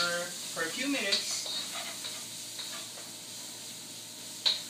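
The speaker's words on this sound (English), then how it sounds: "onions, then we'll saute it for a few minutes" Onions sautéing in a pan for kimchi fried rice, a soft steady sizzle with occasional spatula clinks, close and fairly quiet, with faint voices briefly early on.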